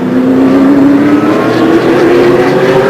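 Loud Speedcar Series race cars at the 2008 UAE round, a high engine whine steadily climbing in pitch as the cars accelerate past, constant and close with no talk.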